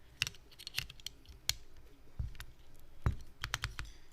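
Keys clack on a rebuilt Electrotype60 mechanical keyboard mounted on just a palm plate while its switches are tested, with quiet, irregular clicks and taps in scattered bursts at close range.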